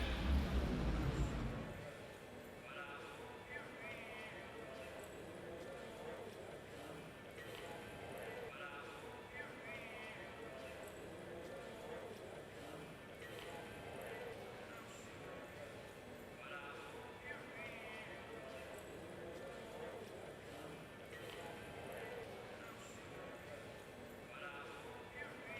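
At a cutting horse competition, hoofbeats from a quick horse working cattle thud faintly in a distant arena, under a commentator's continuous talk and low crowd ambience.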